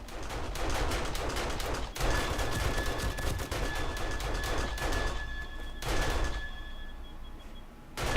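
Defensive turrets in the video game 7 Days to Die fire rapid automatic bursts, a dense crackling rattle of repeated shots that runs nearly unbroken. Brief pauses break the fire before it resumes, loud and close.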